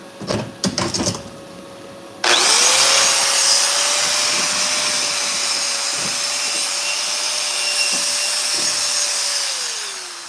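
After a few clanks, a motor-driven brush spins up with a steady, loud whine while cleaning a fillet weld, runs for several seconds, then winds down.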